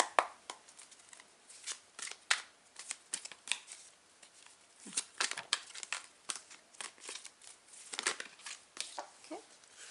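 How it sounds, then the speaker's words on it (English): Tarot cards being shuffled by hand, a dense run of quick papery riffles and slaps that come in uneven bursts, close and fairly quiet, with no talking. "just shuffling the cards"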